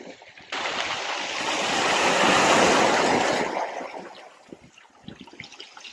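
Sea waves rolling onto Llanddulas beach in North Wales, a broad wash of surf that swells loud in the middle and then recedes, followed by softer trickling and hissing water along the shore.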